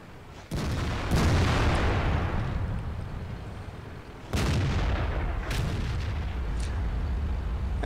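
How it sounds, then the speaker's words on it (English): Heavy IS-7 tank cannon firing high-explosive shells in World of Tanks, two loud booming shots a few seconds apart, each followed by a long rumbling decay with fainter distant gunfire between. "IS-7's continuing to fire HE."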